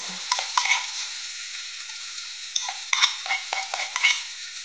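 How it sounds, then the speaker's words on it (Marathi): Crushed green chili, garlic, tomato and salt thecha stir-fried with browned onions, heard as clustered spatula scrapes and light metallic clicks against the pan over a thin, steady sizzle. "हे चांगलं परतवून घेऊया"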